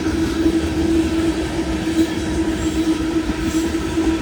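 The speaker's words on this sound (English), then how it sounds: "That's a long train right there." Loaded rock cars of a long Union Pacific northbound freight roll by at Stassney Lane in a continuous close rumble, with a steady metallic wheel drone and faint rhythmic clatter over the track.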